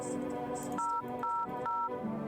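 Phone number being dialed in the video game No I am not a human, a quick run of distinct touch-tone beeps in steady succession over a low background hum.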